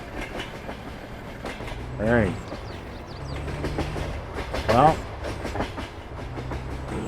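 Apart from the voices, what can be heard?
train passing in Farming Simulator 22 video game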